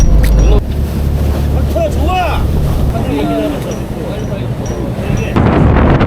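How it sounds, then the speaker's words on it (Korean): Strong sea wind buffeting a fishing boat out on the water while octopus fishing, a loud continuous roar of wind noise over the hull and waves, with a voice calling out in the middle. "아 바람 엄청 터지네요"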